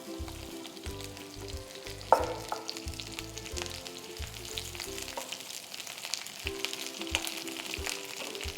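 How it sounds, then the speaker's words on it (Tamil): Ridge gourd peel sautés in hot oil with a steady, close crackling sizzle and occasional scraping stirs, broken by a sharp clink early on. No one speaks. "ஸோ இப்போ அந்த தோல் இதில் ஆட் பண்ணிடுங்க."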